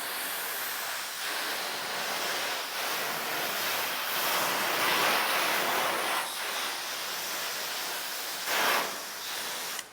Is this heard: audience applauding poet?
no